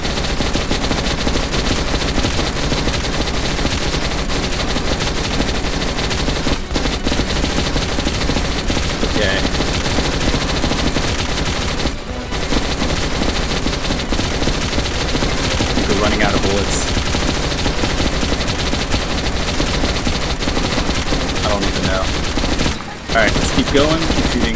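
Dense, continuous gunfire fills a firefight in the video game Metro Last Light, a constant loud clatter of rapid shots with a voice talking now and then over the din.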